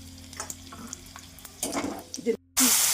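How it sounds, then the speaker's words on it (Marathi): Cumin and mustard seeds frying in hot oil make a soft crackling sizzle under a low kitchen hum, with brief utensil scrapes, a short silent gap, then a louder burst of hissing near the end. "जिरे घालून घेतले मोहरी घालून घेतली"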